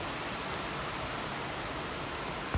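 Steady, even rain pours down with a dense hiss, continuous and fairly close, with no voices.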